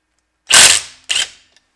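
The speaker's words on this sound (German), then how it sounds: "dann lösen wir einfach mit dem Schlagschrauber die Schraube, die das Nockenwellenrad fixiert" An impact wrench loosening the camshaft gear bolt on a Mazda MX5 NA cylinder head being stripped down, heard as two short, loud rattling hammer bursts close by, the second shorter, with no talk.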